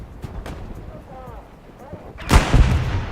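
A demolition charge goes off in Hell Let Loose with a loud, heavy boom and rumbling tail, after quieter distant thuds and faint gunfire, with some voice chatter.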